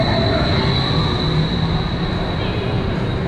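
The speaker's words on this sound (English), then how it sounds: "Love the sound of those LIMs." Linear induction motors on a hypercoaster at Valleyfair amusement park running, a loud continuous broadband rumbling roar with a faint high whine, steady throughout with no talk.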